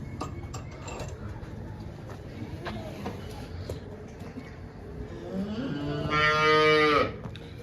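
A cow gives one loud, drawn-out moo near the end, after several seconds of low background noise and faint voices.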